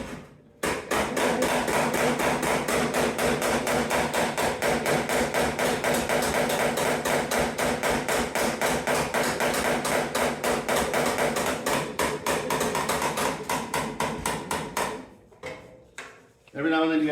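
A hammer pounds out dents in metal in a long, rapid, evenly spaced series of loud ringing blows close by, running for about fourteen seconds before a short pause and a few final strikes.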